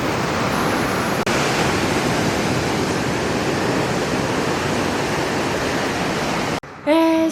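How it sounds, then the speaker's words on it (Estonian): Ocean waves on a Sri Lanka beach with strong surf, a loud, continuous roaring wash of water that cuts off abruptly near the end. "Lained on sellised, et tõmbab kaasa."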